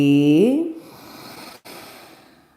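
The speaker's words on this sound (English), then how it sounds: "Deep breathing." Deep breathing during a yoga forward fold: one long audible exhale with a voiced, sighing start that fades into soft airy breath, close and alone.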